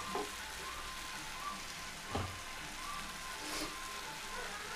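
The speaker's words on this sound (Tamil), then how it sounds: "ஒரு 1 நிமிஷம் நல்லா கொதிக்கட்டும்." Pumpkin curry bubbles and simmers in a covered pan on the stove, a quiet continuous sizzle with soft crackling pops and a few slightly louder bursts scattered through.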